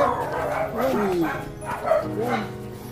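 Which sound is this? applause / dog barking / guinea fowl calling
dog barking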